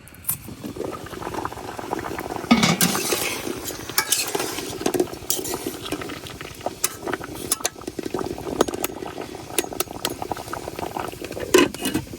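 Eggs and potatoes boil in a pot for a breakfast egg mash, a steady close bubbling and gurgling throughout, with occasional clinks of a utensil against the pot and no talking.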